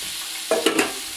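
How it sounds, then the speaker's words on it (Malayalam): Onions and chicken frying in a pan are stirred with a spoon, producing three quick scraping strokes over a low, close sizzle, with no one talking. "നമുക്ക് നല്ലോണം ഒന്ന് ഇളക്കാം"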